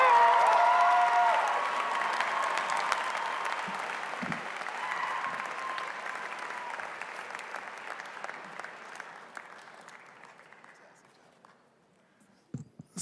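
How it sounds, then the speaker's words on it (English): A graduation crowd at Highlands Ranch High School applauds and cheers, loud at first and slowly thinning over many seconds into scattered claps, with a few sharp sounds near the end. "Let's give another nice round of applause out there for Mr. MacArthur."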